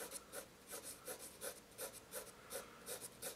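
An HB pencil writing on paper, held lightly, gives a steady series of soft scratchy strokes, each a brief rasping sweep repeating about every third of a second, close and quiet with no talk.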